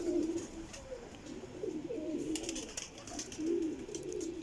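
Pigeons coo softly and steadily with low, rolling calls, layered over one another against faint background noise.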